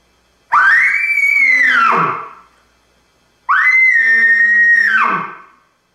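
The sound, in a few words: imitated elk bull bugle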